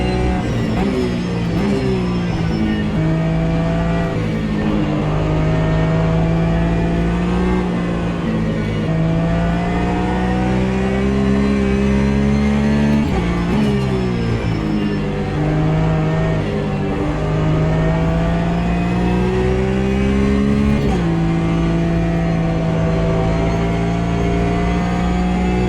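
Race car engine in the Automobilista 2 racing game, a loud continuous drone with steady harmonic tones sliding up and down as revs rise and fall through gear changes, running without pause and without talk.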